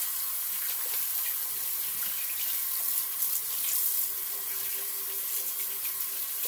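Water from a bathroom tap runs steadily into a sink while a face is rinsed after a shave, a continuous close splashing hiss with small shifts in the flow and no talking.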